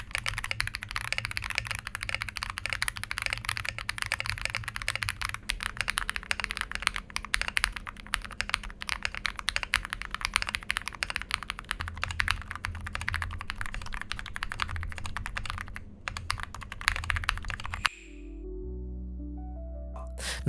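Fast, dense clicking and clacking from a mechanical keyboard being typed on steadily at close range for about eighteen seconds, with no talk, before the keystrokes stop and a different low sound takes over.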